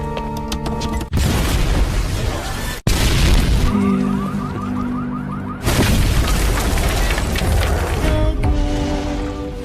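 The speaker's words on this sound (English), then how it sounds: "there was a big explosion inside the headquarters, but Hong Ying's good fortune still survived" Loud booming blasts erupt in sequence inside a headquarters building, heavy and rumbling, with abrupt cuts between bursts and a crackling roar sustaining after each explosion.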